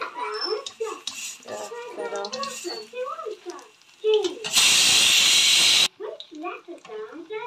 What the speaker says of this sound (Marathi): इकडे कुकरची पण शिटी होते